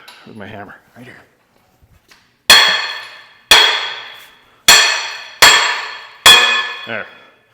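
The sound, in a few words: hammer striking metal bearing race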